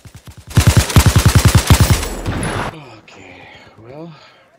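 Gunfire in Battlefield 4 Obliteration: a close, loud burst of rapid automatic shots lasting about two seconds, followed by someone talking.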